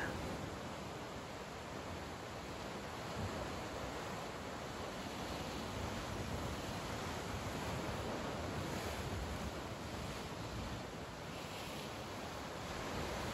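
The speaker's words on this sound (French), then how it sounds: "Le va-et-vient apaisant des vagues." Gentle ocean waves roll in a constant, even wash of surf at the seaside, soft and distant-sounding, with no voices.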